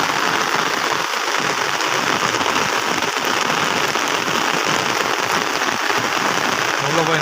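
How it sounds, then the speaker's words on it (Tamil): Heavy rain pours down steadily, a dense, loud, continuous hiss with no break throughout. "சரியான மழை"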